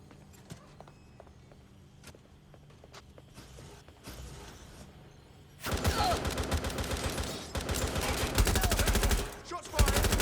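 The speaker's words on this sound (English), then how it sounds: "Shots fired!" Gunfire in the video game Watch Dogs Legion, with a few sparse sharp shots at first, then loud, sustained rapid shooting dominating the second half, with voices underneath.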